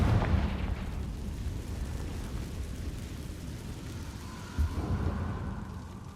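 A Confringo fire spell in the video game Hogwarts Legacy sets off a blast, heard as a sustained loud roaring rumble with a brief thump near the end.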